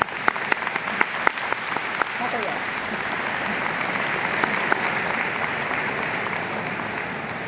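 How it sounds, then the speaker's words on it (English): A university commencement audience at a School of Education ceremony breaks into applause: a few sharp, close claps at first, then a full, sustained crowd ovation that stays loud and steady to the end. "Let's give him a round of applause."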